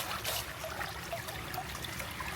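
Water runs steadily from a tap or hose during laundry at a farm, a continuous close trickling and splashing wash with no voices.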